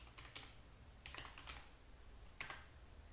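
Keys on a computer keyboard tapped in three quick bursts of clicks, separated by short pauses, fairly close and moderately quiet against a steady low hum.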